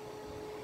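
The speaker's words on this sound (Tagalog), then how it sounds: "Ito, kita nyo may blower siya." Cooling blower fan on a cross band repeater radio running as a steady, faint, even whir with a constant hum.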